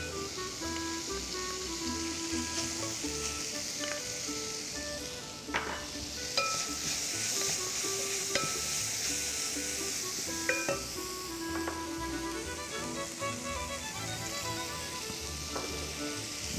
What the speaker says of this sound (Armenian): Մինչ մի քիչ կտապակվի չամիչը